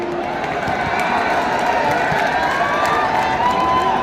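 A huge crowd gathered at a Bahujan Samaj Party (BSP) election rally led by Mayawati keeps up a steady, dense roar of cheering and shouting, continuous and fairly loud throughout.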